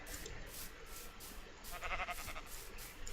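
Sheep bleat in Minecraft, a short wavering call rising near the middle of a quiet stretch, faint against soft game ambience with no talk.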